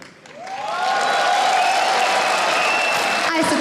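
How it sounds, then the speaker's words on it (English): A crowd at a 2013 EU LCS esports broadcast swells into applause for team Gambit within half a second, then sustains loud, dense clapping. "I suppose that's an applause for Gambit"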